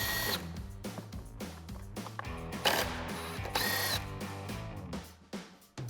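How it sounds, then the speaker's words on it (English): Rapid ratcheting clicks from a 10mm socket ratchet backing out bolts on the light mount of a Jeep Wrangler JL fender flare, with bursts of metallic clicking broken by brief pauses, close and fairly loud. "remove the two 10mm bolts on our light mount. So we've got our 10mm socket, we'll pop these out."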